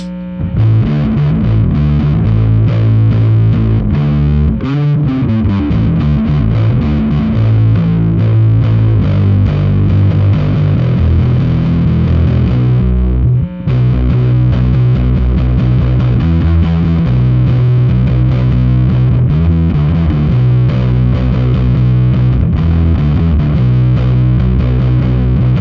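Continuous, loud guitar or bass tone driven through a Catalinbread CB series distortion pedal, thick and saturated, with sustained chords and notes and a brief dropout near the middle.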